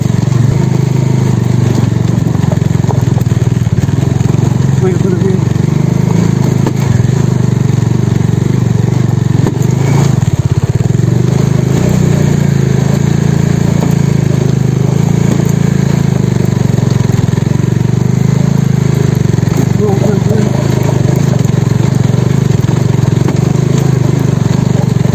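A Bajaj Dominar motorcycle rides a rough, narrow village road cut into a hillside. Its engine gives a loud, close, continuous low drone that holds steady for the whole stretch, with only slight swells.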